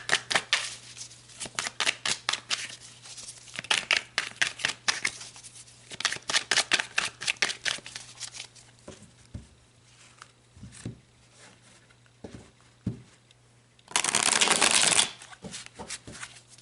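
Tarot cards being shuffled in repeated bursts of quick riffling flutters close by, with a louder dense riffle near the end and no talking.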